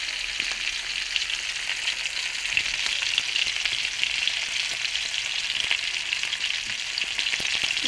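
Tilapia fish frying in hot oil in a home kitchen makes a loud, even, continuous sizzle throughout, with no one speaking.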